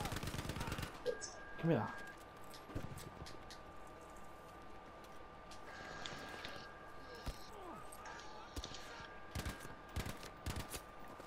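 Gunfire in the video game Battlefield V during a hard-mode co-op map: scattered sharp shots and short bursts of fire, fairly quiet and mixed with game effects, while players talk over it.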